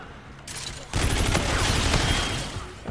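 Rapid bursts of gunfire from the futuristic shooter Call of Duty: Infinite Warfare during an online multiplayer match, a loud, dense fusillade that erupts after a quieter start and keeps going, with no voices.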